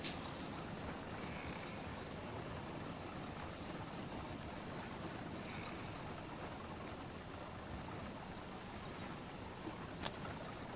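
Horse hooves clip-clop in Red Dead Redemption 2, a quiet, fairly even rhythm of steps over a soft hissing outdoor bed, with a sharp click near the end.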